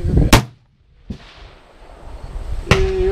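An AR-15 rifle fires at an outdoor shooting range, with two loud, sharp, close shots about two seconds apart and a fainter crack between them, each followed by a brief ringing decay.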